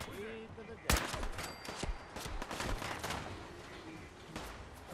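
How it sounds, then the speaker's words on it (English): Cannons aboard the USS Constitution fire in Fallout 4, one sharp heavy blast followed by a ragged series of further booms and gunfire cracks, with a voice speaking briefly at the start. "The cannons are ready. Fire at will. Blast them with everything we got."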